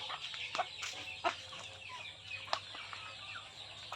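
Rhode Island roosters and other chickens in a cage clucking and squawking in short, repeated bursts at close range over a faint low hum, without speech.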